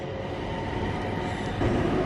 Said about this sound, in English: there's plenty of trains here